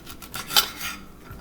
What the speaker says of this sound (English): So first I'm going to start off with my orange here, and I'm just going to cut them up.